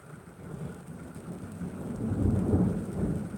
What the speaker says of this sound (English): It's raining again now.